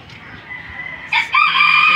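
A backyard rooster crows loudly and close by, a rising call that breaks into a sustained, strained crow over faint background clucking.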